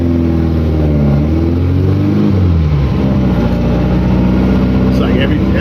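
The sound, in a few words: VW Beetle with 1914cc stroker engine driving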